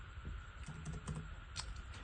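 Quiet, close taps on a computer keyboard as a short word is typed into a comment, a brief run of soft, irregular keystrokes.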